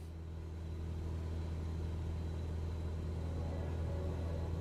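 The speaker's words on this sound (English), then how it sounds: "Filton traffic Cessna X-ray 4585 taking off runway 27 departure" A small Cessna's engine drones steadily at takeoff on runway 27 at Filton in Microsoft Flight Simulator, stormy conditions, a constant low rumble that holds level and fills the whole stretch, with no speech over it.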